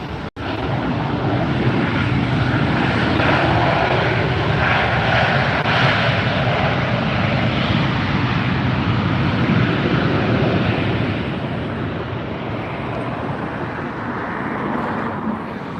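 Air Canada airliner at Los Angeles Airport, a loud, steady jet engine roar close by, sustained throughout and slowly easing toward the end, with no talk.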